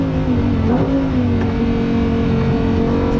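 A Lamborghini Huracán Performante accelerates hard on the Nürburgring, its engine a loud, continuous roar that climbs steadily in pitch, heard close from inside the car with no talking.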